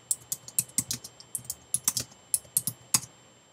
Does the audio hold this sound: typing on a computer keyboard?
yes